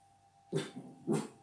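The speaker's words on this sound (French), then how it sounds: "C'est rien, c'est mon chien qui aboie." Indoors, a dog gives two quick, gruff barks about half a second apart, faint and at a distance over a low steady hum.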